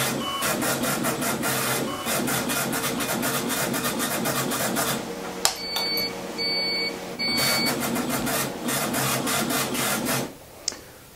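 A smart manifold pressure-tests port 2 with a loud, continuous rhythmic mechanical whir broken by electronic beeps, then a sharp pop as the line bursts and the machine runs down.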